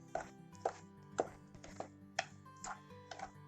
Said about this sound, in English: So I'm just mixing with a spoon.